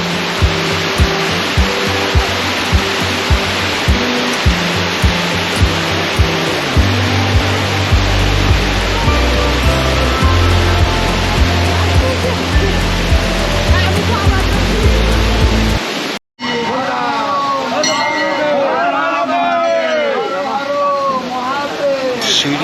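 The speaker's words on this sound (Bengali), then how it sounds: "বর্ষার জলে সমৃদ্ধ একটি ঝর্ণা" Rushing water from a rain-fed waterfall at Panchalingeswar temple roars loud and steady, then cuts briefly before returning with a voice speaking over it.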